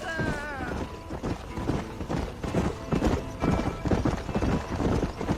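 Horse hooves clip-clopping at a gallop in the Red Dead Redemption video game, a steady rapid rhythm running throughout beneath game music and a voice.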